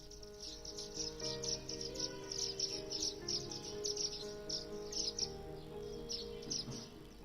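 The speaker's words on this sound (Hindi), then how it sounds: "जयंत तेंदुलकर, जो नागपुर में रहते हैं और उनका बागीचा अब मिनी बर्ड सेंचुरी बन चुका है।" Many small birds chirp and tweet continuously in a garden bird sanctuary in Nagpur, India, a dense layered chorus of calls at moderate distance with insect-like trilling underneath and no talk.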